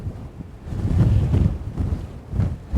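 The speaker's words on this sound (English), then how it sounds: "That wind." Strong wind gusts buffet the microphone on a links golf course among sand dunes, a loud rumbling roar that swells and fades in uneven surges with no talking.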